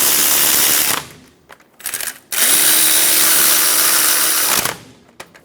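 A power tool runs on a 2014-2018 Chevrolet Silverado 1500 to snug the front caliper bracket bolts. It gives a loud, close whir in bursts, with a brief stutter of short pulses and then a longer sustained run before stopping.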